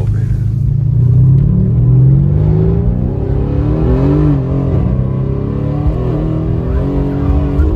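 A 1000-horsepower Mercedes C63 S accelerates hard, its engine note climbing through several gear pulls with a loud, close, aggressive roar and no talking over it.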